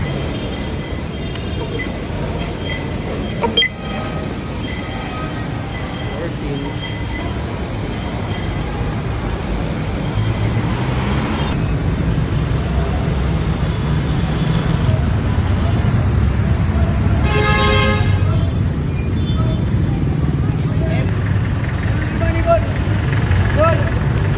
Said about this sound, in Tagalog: Sakay ako ng jeep papuntang Terminal 3.